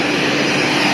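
A CRJ200 jet engine runs up during its start, a steady, loud, close roar of broadband rushing noise with no distinct bang.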